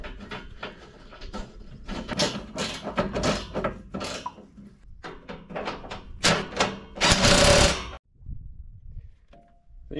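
Wrench work on bolts while changing the water pump on a Cat D3C dozer: a close series of irregular metallic ratcheting clicks and clunks in bursts, with one louder grinding stretch before it falls quiet.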